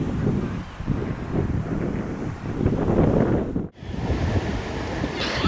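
Surf rolling in on a quiet beach at Puri, a steady broad wash of waves mixed with gusty wind buffeting the microphone, with a brief dropout partway through and no voices.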